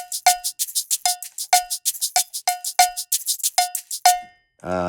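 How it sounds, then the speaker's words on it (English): A cowbell groove played alone: quick, steady repeated metallic clanks with ghosted muted hits between accented strikes, bright and close. "There's a cowbell."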